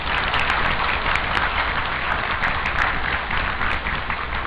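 A church congregation applauds a couple about to marry during a Sunday service, a steady wash of many hands clapping, moderately loud and unbroken throughout.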